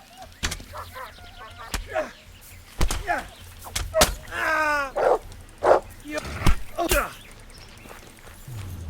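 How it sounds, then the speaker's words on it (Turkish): A dog in Kingdom Come: Deliverance barks in several sharp, separate bursts spread across the stretch, mixed with game sounds, while someone talks excitedly over it. "vurma köpeğe"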